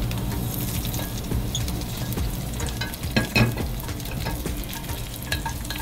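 Chili fries in garlic-infused oil over low heat, giving a steady close sizzle and crackle, with soft stirring scrapes and a few louder pops partway through.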